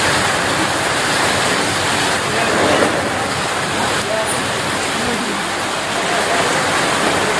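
Heavy downpour of rain in the open, a dense and steady broadband wash of falling water that stays loud and continuous from start to finish, with no voices on top.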